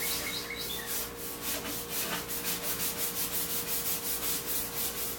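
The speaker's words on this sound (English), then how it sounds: "As you can see, there's just a little bit on here, and then I just rub it on." Chalked spray paint being rubbed onto a surface with an old cotton t-shirt rag, a steady run of soft, close scrubbing strokes in an even rhythm, with no talking over it.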